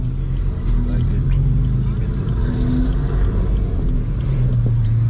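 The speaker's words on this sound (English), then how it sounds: "Oh, the Mustang did come." A Ford Mustang rolls up at night near a car meet, its deep engine rumble steady and close beneath excited voices talking over it.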